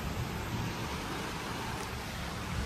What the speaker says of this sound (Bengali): এখন আরও বেশি জোর বৃষ্টি পড়ছে, আর সঙ্গে একটু বাজ পড়ছে